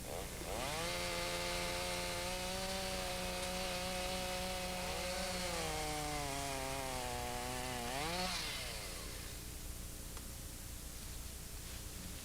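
Chainsaw cutting through a log, its engine roaring loud and close with steady harmonic whine that sags under load as the bar bites, then rises briefly near the end before settling into a rougher idle; no one speaks.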